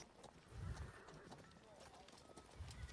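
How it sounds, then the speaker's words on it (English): Horses walking with rhythmic hoof clip-clops, fairly faint and somewhat distant, heard under people talking and reacting excitedly. "I can hear the horses walking."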